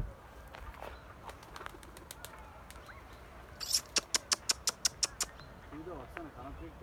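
Young pigeons beat their wings in a quick run of about eight sharp, evenly spaced flaps near the middle, with faint bird sounds and soft background noise around them.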